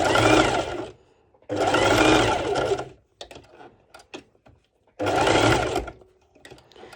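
Sewing machine stitching a curved ruffle of bikini fabric at a slow pace, in two long runs and a shorter third run, loud and close, separated by quieter handling noises.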